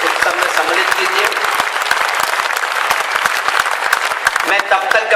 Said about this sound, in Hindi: एक बार जोरदार तालियां बजाकर आप खुद को अपने उत्सव में सम्मिलित कीजिए